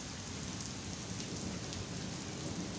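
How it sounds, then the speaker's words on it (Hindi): Heavy rain pours steadily onto a garden of potted plants and flower beds, a dense, even hiss with rain pattering on surfaces throughout, no voices. "तो आज बारिश हुई है"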